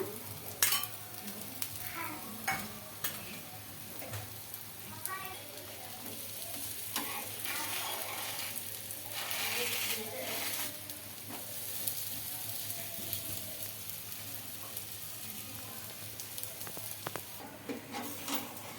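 Cabbage appam frying in oil on a pan, a steady close sizzle running throughout with occasional scraping and stirring clinks, no talking.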